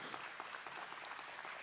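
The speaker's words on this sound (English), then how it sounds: "So give yourself a round of applause." Audience applause at a talk on parents, children and internet safety: steady, even clapping from a crowd, faint and continuous throughout.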